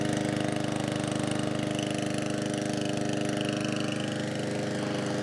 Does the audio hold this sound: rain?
no